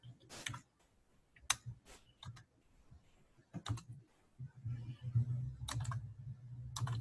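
Keys clatter on a computer keyboard in scattered quick bursts as a shortcut is entered, close and fairly quiet, with a low hum underneath and pauses between presses.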